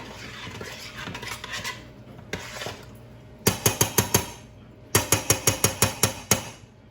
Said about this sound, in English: And stir it around so it melts up a little bit.